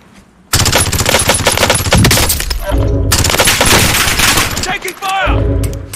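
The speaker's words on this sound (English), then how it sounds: "Taking fire!" Dense automatic gunfire from Call of Duty Warzone erupts after a short quiet lead-in, loud sustained bursts of rapid shots with a brief gap near the middle before firing resumes, with faint voices underneath.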